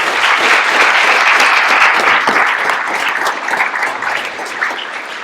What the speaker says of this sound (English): if you'll please give a round of applause to Debbie and Eric from the Rex